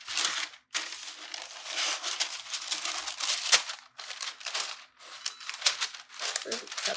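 Parchment paper being handled for a heat press while inking a pillow, loud close crinkling and rustling in repeated bursts with short gaps between handlings.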